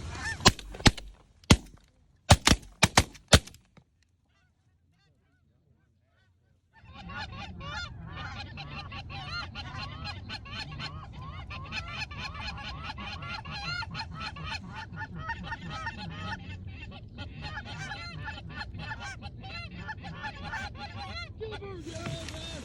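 Geese honk during a goose hunt in West Texas, a few sharp loud calls at the start, a short silence, then a dense, continuous chorus of honking from a large flock.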